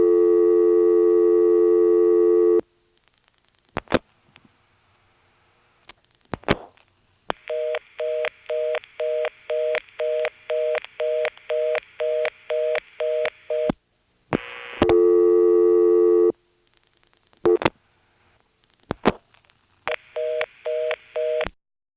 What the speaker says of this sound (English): when you dial it, all of a sudden this reorder just seems to come on out of nowhere